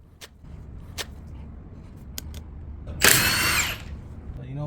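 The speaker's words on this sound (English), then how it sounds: "this 3 1/4 impact wrench makes easy work of it." A 3 1/4 impact wrench fires one short, loud buzzing burst while working on the front brakes of a BMW X5 E53. Scattered sharp clicks and light background noise come before it, and a voice briefly starts just after.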